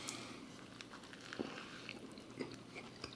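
Bites into an Arby's A.1. steak sandwich topped with onion rings, heard as two soft crunchy chomps under quiet chewing, close to the mic, with no talking.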